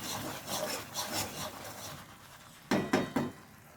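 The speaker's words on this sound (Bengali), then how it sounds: "খুন্তির সাহায্যে একভাবে নাড়তে হবে" A spatula stirs loitta fish in a kadai with soft rhythmic scraping strokes, then three sharper, louder scrapes close together near the end.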